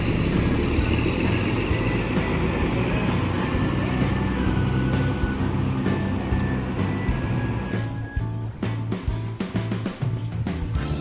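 A Sugeng Rahayu intercity bus with an original SR1 Skybus body, code 4 bound for Malang, pulls in at a bus stop, its engine a steady low rumble with passing road noise, easing slightly toward the end.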